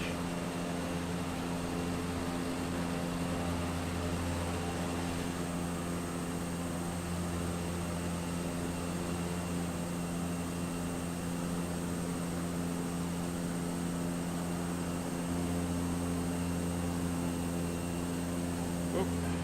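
A Caravan aircraft in a flight simulator approaches a runway in Tasmania, its engine and propeller holding a steady, even, humming drone throughout.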